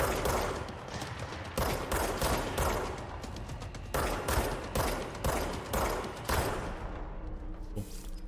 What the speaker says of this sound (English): This is unlimited ammo, yeah. It's like a paranormal gun.